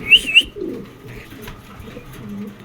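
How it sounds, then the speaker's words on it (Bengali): Spanish pouter pigeons cooing at close range, two sharp calls right at the start followed by softer murmuring coos and light rustling. "এই স্প্যানিশ পটার কবুতরগুলো।"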